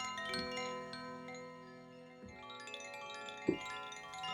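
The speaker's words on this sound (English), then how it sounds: "So that's for all the different Koshi chimes." Koshi chimes from a virtual instrument played on a keyboard, bright tinkling tones with long ringing overtones, struck in a few separate clusters that decay softly between hits and sit quiet and alone.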